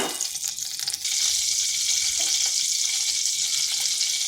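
A spoonful of oil heating in a pan for a vegetarian kundru (ivy gourd) dish begins with a brief splash, then settles into a bright, continuous sizzle at an even level.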